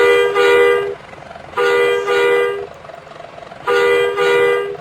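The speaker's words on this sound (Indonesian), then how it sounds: "Oke, lanjut untuk klakson 1." Vehicle horn sounded in three blasts, each about a second long, a steady bright honk with a slight waver, close and loud with short gaps between.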